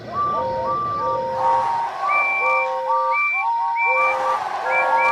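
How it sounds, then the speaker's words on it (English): Steam engine whistles sound in an overlapping chorus, many short tooting notes at different pitches stacking up and answering one another, loud and close. "Whistled all the engines."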